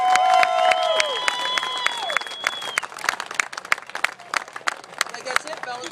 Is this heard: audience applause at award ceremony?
yes